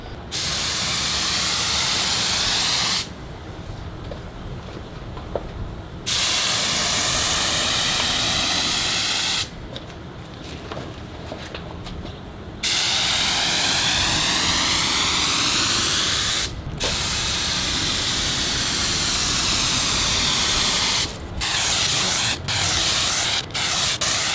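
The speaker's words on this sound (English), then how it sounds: "Let's give it a spray, shall we?" Loud, steady hiss of a spray gun laying down primer coats on a vintage Porsche in several long bursts, with brief pauses between passes and short quick blasts near the end.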